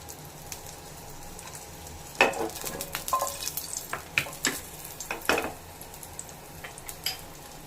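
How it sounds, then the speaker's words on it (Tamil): Four small shallots drop into hot oil and crackle, followed by sharp spatula scrapes and stirring clatter against the pan over a low background sizzle. "எண்ணெய் சூடாகிடுச்சு. இதில் ஒரு 4 சின்ன வெங்காயம் போட்டுக்கிறேன்."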